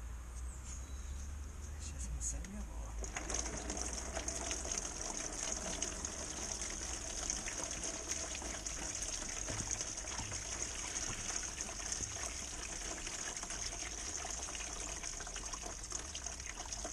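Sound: antifreeze coolant draining from Vauxhall Vivaro engine

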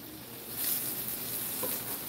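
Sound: tomatoes sautéing with onion and garlic

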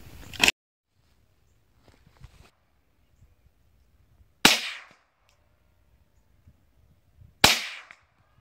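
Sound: 22 rifle shooting at Tannerite targets

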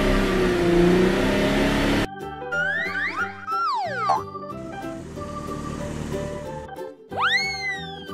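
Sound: toy purple car engine revving sound effect

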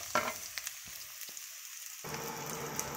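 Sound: pork belly frying in a pan

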